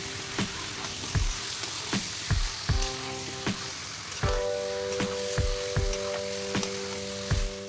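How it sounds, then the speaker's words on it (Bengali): Chicken pieces frying in a spiced masala in a pan, a steady sizzle broken by repeated sharp scraping and stirring strokes at an irregular rhythm, close and fairly loud. "চিকেনের পিসগুলো মশলার মধ্যে ভালো করে কষিয়ে নিচ্ছি।"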